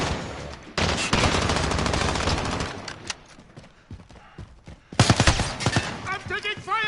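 Bursts of rapid automatic gunfire in the video game Spec Ops, a dense rattling volley that fades into scattered shots before a second loud barrage, with a voice talking over the shooting.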